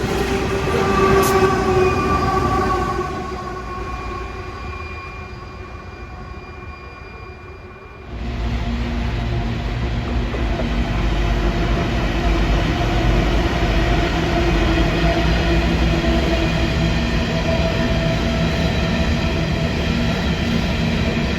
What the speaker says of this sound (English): Coming into view shortly is the 5000 class locomotive on the rear.